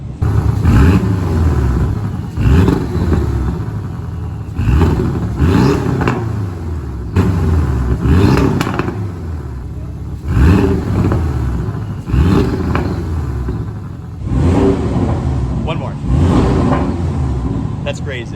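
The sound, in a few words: Porsche 718 Cayman S engine revving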